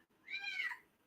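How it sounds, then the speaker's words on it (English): A domestic cat gives a single clear meow indoors, rising and falling over about half a second, fairly close and alone in a quiet room. "That's my cat, guys."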